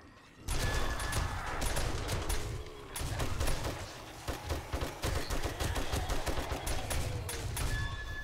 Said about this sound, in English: Who keeps shooting the trader?